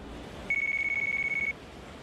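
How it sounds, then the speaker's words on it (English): In the Yakuza Kiwami video game, a phone rings with a single bright electronic trill that pulses rapidly for about a second against quiet game ambience. "we're getting a phone call"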